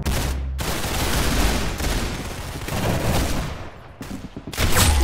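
Gunfire from the Roblox shooter Arsenal crackles in dense, rapid bursts that run almost nonstop, with a couple of brief gaps and a heavier burst at the end.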